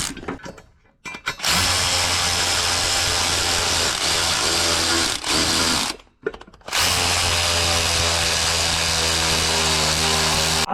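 Power tool driving bolts into the intake manifold of an 8.1L engine swapped into an OBS GMT400 GMC truck: a loud, steady whir runs for long stretches and is broken by two brief pauses.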